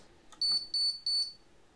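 UPS with a newly connected battery giving three short, evenly spaced high beeps, clear and close with no talk.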